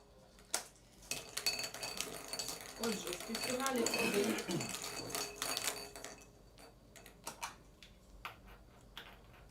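Draw balls carrying team names rattle and clink against each other at a youth futsal cup draw, a dense clatter in the middle and scattered light taps around it, close and fairly quiet.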